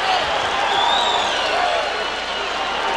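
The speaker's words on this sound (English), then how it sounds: "Now that brought the crowd back to." A crowd roars and cheers at a boxing match in a Johnny Tapia bout against Pedro Javier Torres, a steady dense wash of arena noise that stays loud throughout, with a commentator's voice running underneath.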